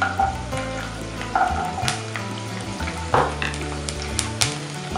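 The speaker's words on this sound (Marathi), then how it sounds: "आता हे आपलं मस्तपैकी खरपूस तळून झालं आहे लसूण." Garlic cloves sizzle and crackle steadily in hot oil, with an occasional scrape of stirring and no voices.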